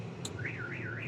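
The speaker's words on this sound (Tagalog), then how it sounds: "Tingnan natin kung tutunog yung alarm." A Mitsubishi L300 car alarm wails in a rising and falling siren pattern, loud and steady, with a brief chirp at the start.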